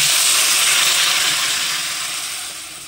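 Hot water from a pot is added over cooked rice for a curry, producing a continuous bright, loud hiss and pour that tapers off gradually toward the end.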